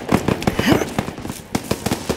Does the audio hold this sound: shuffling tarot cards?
no